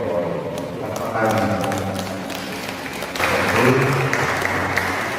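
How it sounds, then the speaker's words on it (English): A congregation claps for a newly married couple, a steady crowd of hands that swells louder midway and holds, with voices mixed in underneath. "let's congratulate and clap our hands our newly married couple"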